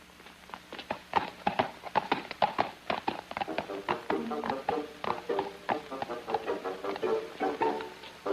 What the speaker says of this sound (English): Sir Corrado, would you mind giving a look at this horse's hoof?